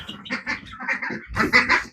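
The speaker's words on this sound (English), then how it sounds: "Here's our 3 young ducks." Three young farm ducks giving a short series of soft, quick quacks, close and fairly quiet, with a louder burst at the end.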